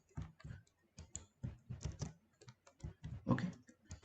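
Code being typed on a computer keyboard, quiet irregular bursts of key clicks with short pauses between them, close and alone without talk.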